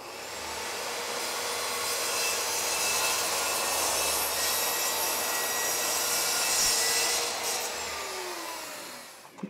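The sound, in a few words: sawing a piece off for an electric race car build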